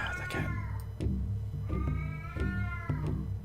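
Repeated loud cat meows, several long complaining cries in a row, sounding near and insistent over a steady low hum.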